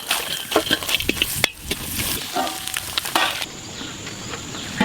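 Coconut frying in a pan with ghee, a close crackling sizzle broken by sharp stirring scrapes and clicks in the first half, then a softer continuous hiss to the end.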